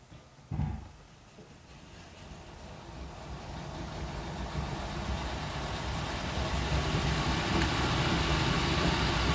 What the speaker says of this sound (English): Let's see what happens when spin the motor up with the wheels attached.